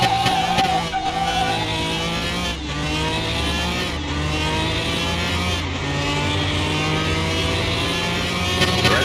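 A CCX twin turbo car engine in Car Mechanic Simulator 2021 revs loud and steady, the pitch climbing in repeated sweeps with brief shifts, droning continuously up close.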